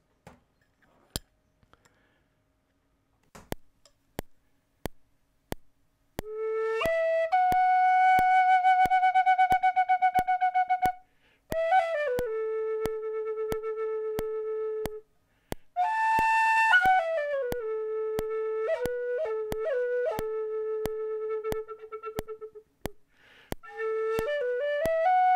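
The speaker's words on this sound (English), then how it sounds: "this is a chieftain whistle in A" A Chieftain tin whistle in A plays a few sustained, pure high notes and short runs, separated by pauses and faint clicks, close and clear with no voices.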